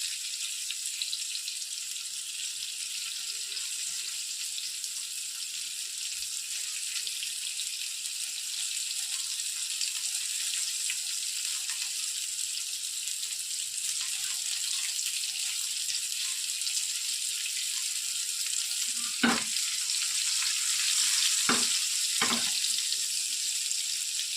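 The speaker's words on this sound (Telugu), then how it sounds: "టూ మినిట్స్కే ఈ విధంగా టూ సైడ్స్ బాగా ఫ్రై చేసేసుకోవాలి" Stuffed bitter gourds fry in hot oil in a pan, giving a steady, even sizzle across the whole stretch, with a few sharper spits and pops near the end.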